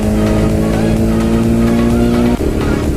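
Close, loud engine drone of a Ducati Monster 821 motorcycle on the road, steady at low revs with a brief dip near the end.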